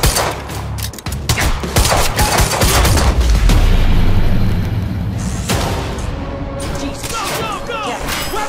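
Quantum Break firefight: heavy, continuous automatic gunfire with booming impacts fills the scene, loud and close, while voices shout over the shooting.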